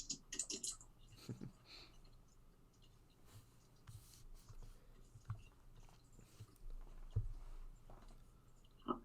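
Computer keyboard typing while a holiday group message is composed in sales software: scattered, quiet key clicks come irregularly across the span, faint and close, with no talking over them.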